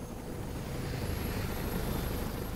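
Helicopter in the video game Resident Evil 6, a steady whirring rotor and engine drone held at an even, fairly loud level throughout with no talking.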